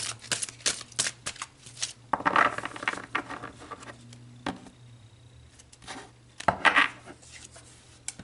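Tarot cards being shuffled by hand during a mediumship reading, giving soft riffling and slapping bursts in irregular clusters, close and moderately loud, with a low steady hum underneath.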